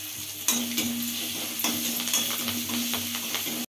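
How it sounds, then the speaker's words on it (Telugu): Spices tempering in hot oil with curry leaves, dried red chilies and green chilies, for a bottle gourd curry, sizzle steadily and loudly with occasional stirring clicks and scrapes throughout. "పోపు వేగింది కాబట్టి కరివేపాకు, మిరపకాయలు, పచ్చిమిరపకాయలు ఇవన్నీ వేసుకోవాలి."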